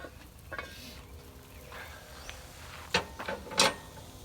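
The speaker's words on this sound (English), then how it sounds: "First step, put the sausage in. We got some Jimmy Dean sage sausage." Jimmy Dean sage sausage sizzles in a Dutch oven, a soft, steady frying hiss broken by scraping stirs and a few sharp metallic clanks.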